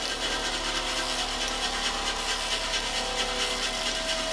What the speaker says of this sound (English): Now this is a rather unique drill.